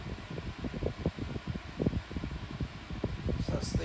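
A 1990s Pifco 7-inch electric fan runs on its lowest speed setting, making a quiet, low whirring hum with soft uneven thumps and flutters throughout.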